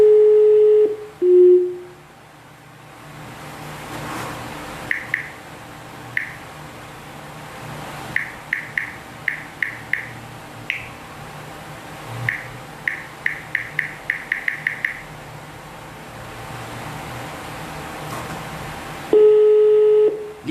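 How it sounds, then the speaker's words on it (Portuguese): A phone call is placed: a dial tone, then a rapid series of short keypad beeps dialing the number, with the tone returning at the end, close and clear with no talking. "Ligando pra ele, ligando."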